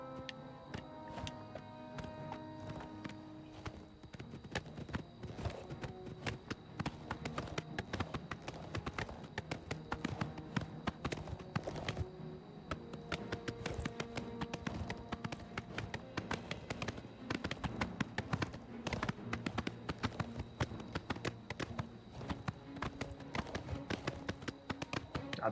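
Horse hooves in the game Oblivion Remastered, a quiet, steady run of sharp clip-clop taps over a soft tonal backdrop, continuing evenly for the full length with no talking.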